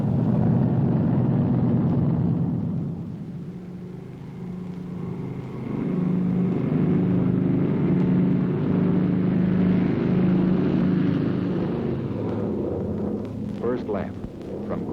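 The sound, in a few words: bomber aircraft taking off for mass flight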